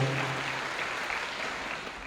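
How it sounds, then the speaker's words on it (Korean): Wedding guests clapping for the bride and groom at a ceremony, a soft, distant, even patter of applause throughout. "두 사람에게 사랑의 박수 부탁드리겠습니다"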